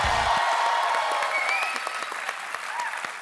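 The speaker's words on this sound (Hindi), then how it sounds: "जोरदार तालियां हो जाए एक बार।" A studio audience at a comedy talk show breaks into steady, dense applause with a few whoops, heard at a moderate level across the whole moment.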